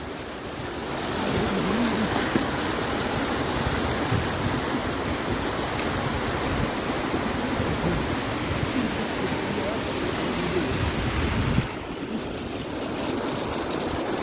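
Mountain river rushing near the Pindari and Kafni glaciers, a loud, steady broadband roar of flowing water that fills the whole stretch with little change, sounding close by.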